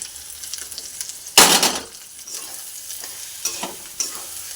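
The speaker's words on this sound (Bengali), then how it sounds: "দিয়ে এখন আবার একে কষানো হবে।" Fried shrimp and potato are stirred into spiced masala in a hot pan, with a loud scraping clatter and burst of sizzle early on, followed by softer frying and a few lighter scrapes.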